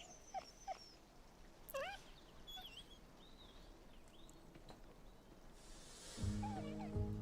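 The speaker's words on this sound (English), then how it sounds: "That's a Dalmatian." A Dalmatian dog whimpers and yips in a scene from the TV show Once Upon a Time: thin, rising whines over a steady outdoor background, then a louder tonal burst near the end.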